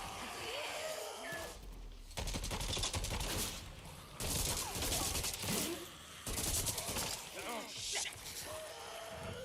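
Bursts of gunfire in the video game Days Gone, several rapid volleys breaking up a steady, busy game soundscape while a voice talks over parts of it.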